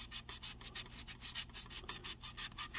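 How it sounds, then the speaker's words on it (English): Light hand sanding of a 1969 Dodge Charger R/T body, a soft, rhythmic rasping of repeated back-and-forth strokes, close and fairly quiet with no voices. "Just light sanding, because there's no imperfections there, so I don't have to hit it real hard."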